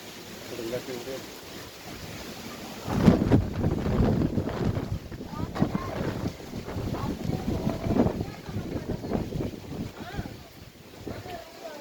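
Strong storm wind with heavy rain roars and buffets steadily throughout, loud and close, with voices talking over it.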